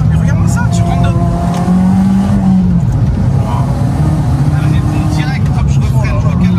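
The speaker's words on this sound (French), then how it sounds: "je refreine, je recale la 2, je reviens, j'accélère, je recale la 3" A tuned Abarth Stage 4 with an automatic gearbox accelerates hard, its engine droning loud and steady and stepping through upshifts into second and third, with a person talking over the engine noise throughout.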